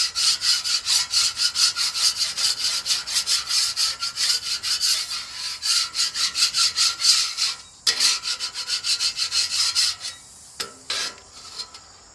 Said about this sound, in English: now that it's wet, this crispy stuff will scrape right off